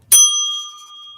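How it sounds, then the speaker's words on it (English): A single bright bell strike with a sharp attack and a clear ringing tone that slowly fades, close and loud, sounding alone. "That should ring my bell."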